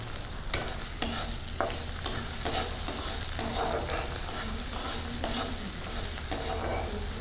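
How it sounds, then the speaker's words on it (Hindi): Green chilies roasting and being stirred in a pan for a Jharkhand-style dish, giving a steady close sizzle broken by repeated scrapes and knocks of the stirring spoon, with no voices. "ये मिर्ची, ये थोड़ी भुन जाए उसके बाद फिर हम लोग प्याज डालेंगे"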